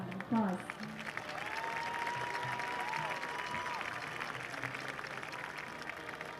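Audience applause for homecoming honorees at a high school football game, a broad wash of clapping from a stadium crowd heard at a distance, with a voice and a brief whistle-like tone over it.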